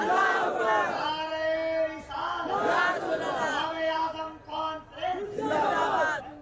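Large crowd shouting the Takbir chant at a Ramzan religious gathering, loud repeated voiced bursts in a rising and falling rhythm, with several waves of collective shouting.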